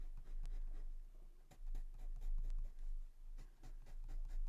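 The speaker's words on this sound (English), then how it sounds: "Wherever it's darker on your page, just use a little bit more pressure with your pencil." Pencil shading on paper during a greyscale colouring demonstration, heard as a soft, close scratchy rasp in repeated strokes with brief pauses between them, alone without talk.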